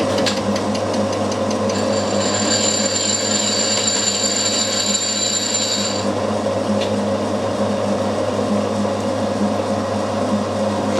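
A milling machine cuts dovetails into metal, giving a steady loud mechanical hum with a high whining tone through the middle portion that drops away near the end, running alone without voices.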